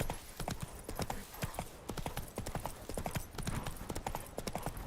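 Roach the horse galloping in The Witcher 3, rapid dense hoofbeats throughout, fairly loud and continuous over background game sound.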